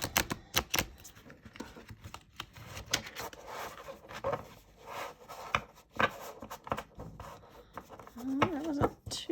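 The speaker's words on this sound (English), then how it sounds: "let's see how I am at shuffling an oval deck" An oval tarot deck is shuffled by hand, giving a run of soft, irregular card riffles, taps and rubbing clicks, quiet and close, with uneven bursts of activity.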